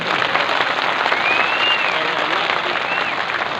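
An audience at a political speech breaks into sustained applause, a dense, even wash of many hands clapping together with crowd noise throughout.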